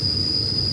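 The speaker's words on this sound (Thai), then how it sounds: "ขณะนี้ขับรถธรรมดาขบวนที่284รับส่งผู้โดยสารท่าจากมีสุขเมษปลายทางสถานีกรุงเทพกำลังจะเข้าเทียบที่สถานีรถไฟอุตภเวนะครับ" Ordinary passenger train 284 pulls into U-Tapao station in Thailand with a steady rolling rumble and a sustained high metallic wheel squeal, close and loud.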